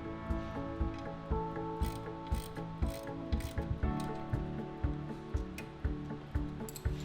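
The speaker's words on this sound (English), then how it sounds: "Reinstall the console stop using an Allen wrench and socket wrench." A socket wrench ratchets steadily with rapid, regular clicking strokes, close and distinct, while reinstalling the console stop on a Merritt Synergy chair system alongside an Allen wrench.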